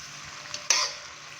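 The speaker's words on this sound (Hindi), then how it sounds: "टमाटर को नरम होने तक हम अच्छी तरह से फ्राई करेंगे।" Peeled, finely chopped tomatoes fry in oil in a karahi for a mutton liver dish, a steady hiss of sizzling with a sharp burst of crackle midway as the pan is stirred.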